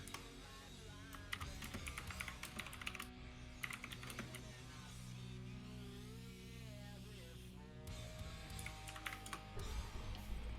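Rapid typing on a computer keyboard close to the microphone during a gaming stream, bursts of clattering keystrokes separated by short pauses over a steady game soundtrack hum.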